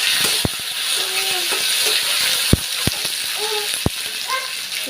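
Tomatoes fry lightly in oil over a mustard seed tempering, making a continuous even sizzle with a few sharp clicks and faint voices in the background.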